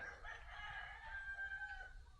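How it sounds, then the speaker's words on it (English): In the Philippines, roosters crow faintly in the distance over a low background rumble, their calls drawn out and overlapping. "Lots of roosters."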